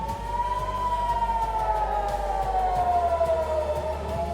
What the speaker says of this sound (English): That's the sound of the sirens going off.